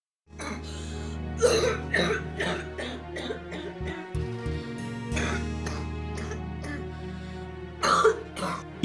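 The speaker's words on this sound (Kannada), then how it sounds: "ಇದೇನು ಸಾಮಾನ್ಯ ಕೆಮ್ಮು ಅಲ್ಲ." A man coughs persistently in a series of harsh, repeated hacking bursts and throat clearing, loud and close, over a steady background tone in what sounds like a staged scene about smoking.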